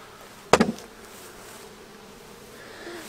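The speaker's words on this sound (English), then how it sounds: "A little bit of bees there." Honey bees around a hive being fed sugar, a faint continuous buzz with one brief, close burst of sound near the start.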